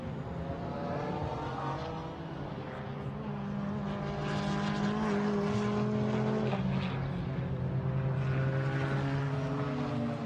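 A GT4 race car laps the Nürburgring during a GT4 European Series qualifying session, its engine droning loud and steady with rising and falling pitch through gear changes, heard close and continuous with no gaps.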